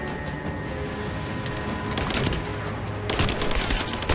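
Dense, loud bursts of gunfire from Rise of the Tomb Raider crackle steadily, with sharper volleys rising toward the end and no voice over them.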